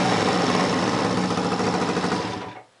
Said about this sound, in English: the electric start working.